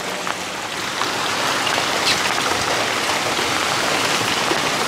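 Heavy rain in the Mekong Delta, a dense, steady roar of downpour close by, continuous hiss with scattered drips and spatters, no voices.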